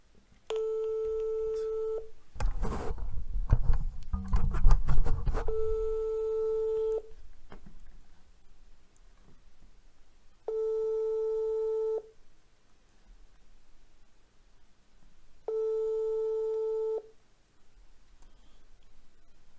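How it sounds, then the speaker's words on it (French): WhatsApp outgoing call ringback: four evenly spaced steady tone bursts, each about a second and a half long, separated by pauses, with a burst of rustling handling noise after the first tone, fairly quiet overall. "En appelant eh bien, Reda sur WhatsApp"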